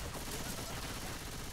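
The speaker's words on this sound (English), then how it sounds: "Stop shooting each other." Rapid bursts of gunfire in the Left 4 Dead 2 video game, dense and continuous for the whole moment, loud and close with no pauses between shots.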